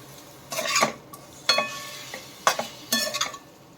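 Spoon stirring chicken in a pan after coriander-cumin powder and turmeric go in, for a creamy almond chicken curry: four separate scraping strokes with a light sizzle, close and fairly quiet, no voices.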